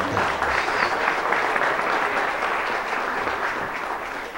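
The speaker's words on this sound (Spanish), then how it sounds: "pido también un aplauso para estos tres caballeros aquí sentados" An audience at a ceremonial tourism event in Puerto Plata claps steadily for about four and a half seconds, a dense, even patter of many hands with no voices over it.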